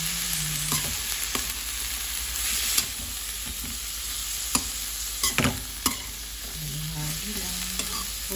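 Vegetables stir-frying in a pan for pancit miki guisado, a steady sizzle with scattered scraping and stirring knocks of a utensil against the pan, no talk.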